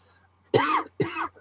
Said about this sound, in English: a coughing fit